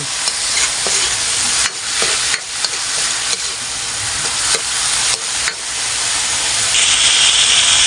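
Green chili sizzles and fries steadily in a hot pan for squid adobo, with a spoon or spatula stirring and scraping in loud, continuous bursts close by.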